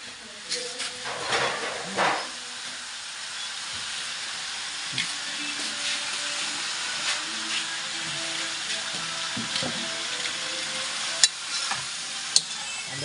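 A ladle stirs food in a hot pan, scraping and clinking over a steady frying sizzle and steam hiss, with a couple of sharper metallic taps near the end.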